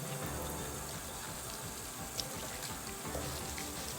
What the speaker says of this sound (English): And you can see it lathers up really nice in your scrunchie.